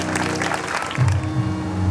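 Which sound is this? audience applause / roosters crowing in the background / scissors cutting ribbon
audience applause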